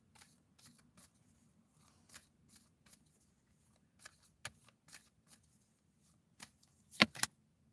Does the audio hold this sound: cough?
no